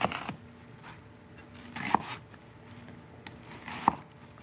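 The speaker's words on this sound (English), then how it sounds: "The onion, too, has to be cut into big wedges. Cut this into 8 equal pieces." Knife slicing an onion into big wedges on a cutting board, a few sharp separate cuts spaced about two seconds apart over faint kitchen background.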